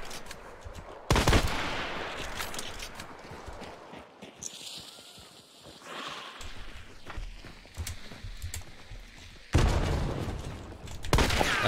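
Gunfire in the video game Hunt: Showdown, with loud sharp shots opening and closing the stretch and rattling, clattering bursts and rumbling echoes between them, heard without talking.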